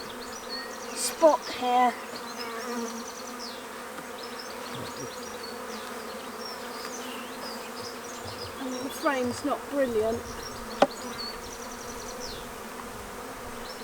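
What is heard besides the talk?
honeybees buzzing around a bait hive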